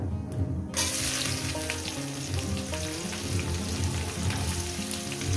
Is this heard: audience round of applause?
no